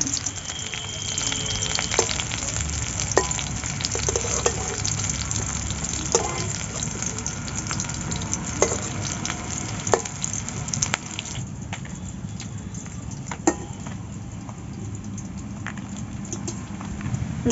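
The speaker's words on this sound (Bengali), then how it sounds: "তেল গরম হয়ে গেছে, এবার তেলের মধ্যে একটা একটা করে উচ্ছে ছেড়ে দেবো।" Bitter gourd pieces fry in hot oil with a steady, close crackling sizzle, dotted with sharp pops and occasional clinks of a utensil throughout.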